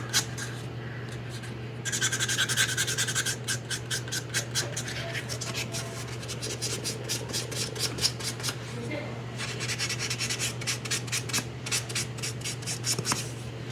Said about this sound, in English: Edges you'll tend to go through because sandpaper hits it a little harder.